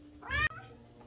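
A single close cat meow, short and fairly loud, from a stray cat fed by the household at home, rising to a brief peak and then cutting off into quiet room tone.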